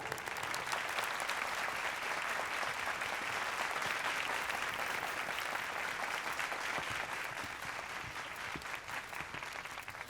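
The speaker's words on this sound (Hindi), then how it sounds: "तालियां।" Audience applause for a guest of honor at a stage event, a continuous, dense wash of clapping from a sizable crowd, steady and moderately loud from start to finish.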